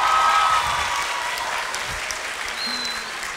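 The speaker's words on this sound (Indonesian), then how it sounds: "Beri tepuk tangan." Audience applause at a talk or presentation, dense clapping that starts loud and gradually fades over a few seconds.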